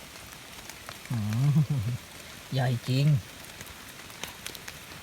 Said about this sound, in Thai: ฝนตกตลอดทั้งคืนครับ